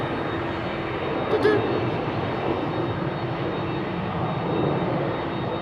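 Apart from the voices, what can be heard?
business jet taking off from runway 22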